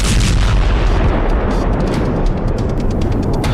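Air strike explosions as Israel strikes Gaza: a loud, continuous roar of blasts and rumbling booms with crackling bursts layered throughout, dense and sustained without a pause.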